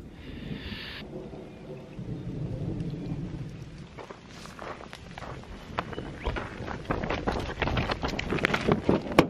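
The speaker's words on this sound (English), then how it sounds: "Just wait for the storm to pass." A thunderstorm on an outdoor road, with rolling low thunder rumbling through steady rain and wind, growing louder toward the end with sharper crackling bursts.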